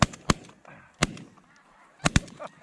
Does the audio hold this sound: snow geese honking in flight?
yes